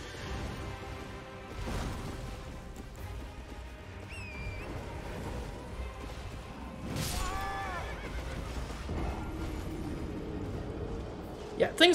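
Horse neighs from the Elden Ring video game: two shrill whinnies rise over busy game audio and footsteps, with a person talking at times.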